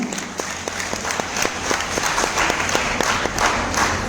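A seminar audience claps to welcome an invited guest speaker, dense steady applause from a roomful of people lasting throughout, fairly close and loud.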